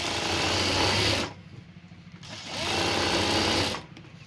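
A sewing machine stitching along the edge of a saree for a picot hem, running in two steady whirring bursts separated by a short pause, close and loud.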